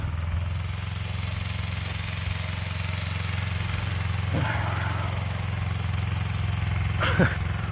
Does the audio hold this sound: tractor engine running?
yes